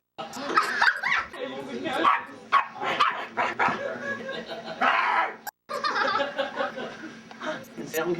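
A dog barks in short yips among people talking and laughing loudly indoors at a Christmas gathering, with the barking partly buried under the voices.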